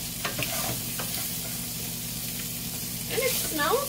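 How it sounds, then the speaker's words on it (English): Ground turkey browning in a pan gives a steady, close sizzle and frying hiss throughout, with brief stirring scrapes near the start and a louder spatter burst toward the end. "My turkey is browning up nicely."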